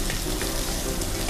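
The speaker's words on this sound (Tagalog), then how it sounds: "At samahan natin ang onion. Halo-haloin. Saute ang tawag dyan." Onion sautéing in a pan gives a brief, steady sizzle of frying with faint stirring, close up and with no voices.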